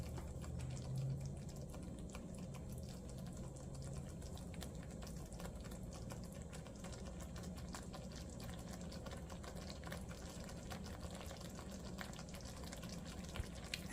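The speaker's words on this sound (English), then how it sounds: "about 1 to 2 minutes. Allow it to simmer." Coconut curry sauce simmers in a pot with salmon about to be added, giving a steady, quiet bubbling and watery burble that runs evenly throughout with no talking.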